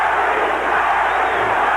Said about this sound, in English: Now the crowd is yelling for Larry Holmes